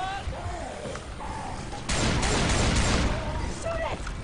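Gunfire in the video game Left 4 Dead 2: bursts of rapid shots and booms grow denser partway through, layered over game noise, while players talk over it.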